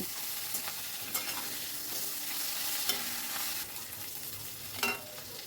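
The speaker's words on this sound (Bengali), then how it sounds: "দেখুন আমি খুব সুন্দর করে মাছের মাথাটাকে ভেঙে নিয়ে ভেজে নিয়েছি" Broken-up fish head frying in a wok, a soft, fairly quiet continuous sizzle with occasional scrapes and light clinks from stirring, and no voices.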